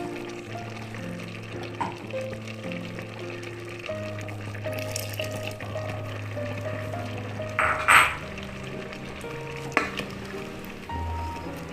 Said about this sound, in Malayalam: ജാറ് കഴുകിയ വെള്ളം കൂടെ ഒഴിക്കാം